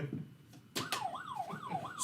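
An ambulance siren wailing in a rising and falling pattern, faint and distant, cutting in after a couple of sharp knocks and repeating through several sweeps without any talk.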